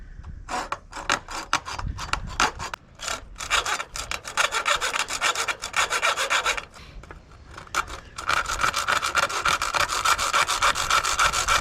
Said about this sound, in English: they cut it with a hacksaw, and it went a lot easier in the video